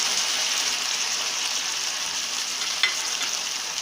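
Chicken pieces go into a pan of lightly sautéing onions for chicken karahi, giving a steady bright sizzle that holds evenly throughout, with one small clatter late on and no talking.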